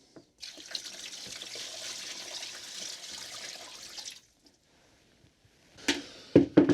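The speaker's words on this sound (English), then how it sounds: "I could have just used this bucket to pour the whole lot in." Ten liters of water poured from a bucket into a container in a chilli garden: a steady, close splashing rush for about four seconds that stops abruptly, followed by a few brief knocks and handling sounds.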